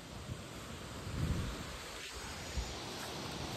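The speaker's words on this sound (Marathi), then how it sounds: "आता मी तुम्हाला दाखवतो छोटासा मिनी वॉटरफॉल. पाण्याचा आवाज येत असेल तुम्हाला." Continuous rushing water fills the clip, a soft, even roar with a faint low rumble underneath, no voices present.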